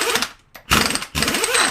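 A power tool buzzes loudly and close while it removes the 30 mm axle nut on a 1998 Ford Taurus during wheel hub replacement, in two harsh bursts split by a short pause.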